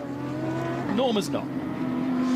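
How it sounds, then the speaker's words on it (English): Race car engine at the 2025 Michelin 12 Hours of Paul Ricard swells through a fast rising and falling rev sweep as it passes, with a steady engine drone around it and people talking over the top. "That car sounds like it must be an absolute weapon when it's in, let's call it full mode"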